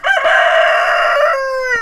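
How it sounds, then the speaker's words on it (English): A rooster from a small flock of chickens crows loudly and close by, one long drawn-out cock-a-doodle-doo with a brief cluck at its start. "a little group of chickens like this"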